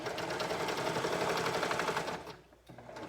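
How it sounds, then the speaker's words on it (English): A sewing machine stitches the inseam of a pair of women's pajama shorts, a close, steady mechanical chatter that runs evenly and then stops abruptly before a brief quieter resumption, with no voices. "now I'm sewing up one leg"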